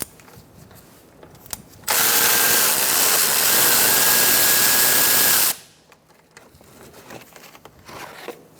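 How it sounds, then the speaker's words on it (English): A power tool spins out a bolt with a 10mm socket on the front inner fender liner of a 2014-2019 Kia Soul, one loud steady whirring burst of several seconds, close up, between quieter handling sounds. "Using a 10mm socket, we're going to remove this bolt."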